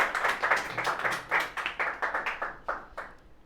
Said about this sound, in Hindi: जोरदार तालियां हो जाए उत्कर्ष यादव के लिए।